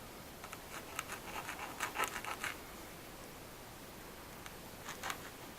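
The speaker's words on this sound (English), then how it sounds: "I'll trace out the outer diameter on this plate" Pencil or marker drawn around the outer edge of a plate, a soft close scratching that comes in quick strokes, then fades to near silence before a final short scratch.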